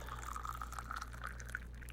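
Liquid poured in a visual novel scene, a soft steady trickle running about two seconds at low volume over a constant background hum with faint dripping.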